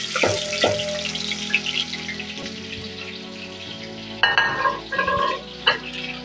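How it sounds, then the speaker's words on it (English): Onions frying in hot oil, a continuous close sizzle with occasional spatula knocks and stirring scrapes against the pan. "So since the oil is ready, I'm going to add my onions."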